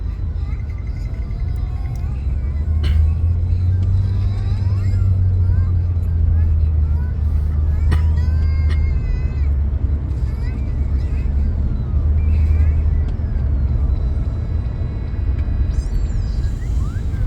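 Steady heavy traffic on Interstate 5 heading toward Sacramento: loud continuous car and engine rumble with vehicles passing, while people talk in Tagalog over it.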